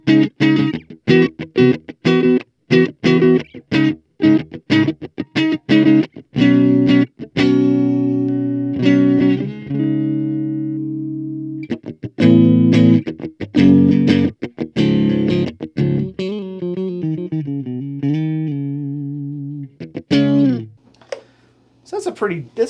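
Clean electric guitar notes and chords are picked in bursts through a Donner Cyclops amp's Tweed Deluxe model, with dry tone, some sustained, others short and choppy, with pauses between phrases.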